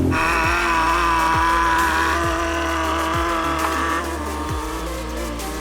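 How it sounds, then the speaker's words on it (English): A Ferrari engine idling steadily close by, a constant low hum with a faint rhythmic ticking pulse throughout. "It'll pick up the idle in just a second."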